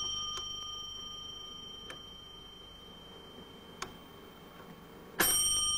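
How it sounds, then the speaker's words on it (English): An 1800s clown automaton's bell rings three times as sharp, thin strikes spaced about two seconds apart over a steady mechanical hum, followed by a louder burst near the end. "The intermission bell interrupts his slumber, not once, but three times."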